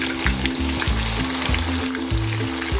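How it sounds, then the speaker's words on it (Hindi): Fish fillets fry in oil in a pan over a medium flame, the second side cooking after being flipped; a steady, close sizzle runs throughout beneath background music. "तो ये साइड भी इसकी अच्छी तरह पका लेंगे।"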